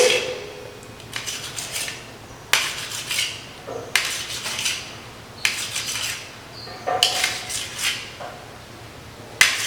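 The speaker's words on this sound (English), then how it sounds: "This is the first one, and we are cutting it into cubical pieces." A knife cuts soft steamed idlis into cubes on a hard surface, giving sharp clacks in short clusters that repeat every second or two, close and fairly loud against a quiet kitchen background.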